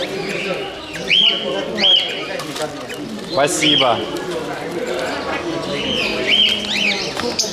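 Caged birds at a market stall chirp and whistle in short repeated calls, with pigeons cooing low beneath them, while people talk nearby throughout.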